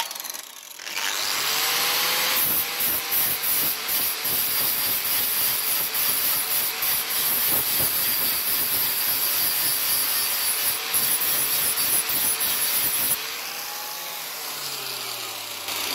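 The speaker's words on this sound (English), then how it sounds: "then flap disc or a stone will do perfectly for this bit" A flap disc on an angle grinder grinding down a MIG weld, giving a loud, continuous abrasive whine with scraping pulses as it works the metal, then winding down at the end.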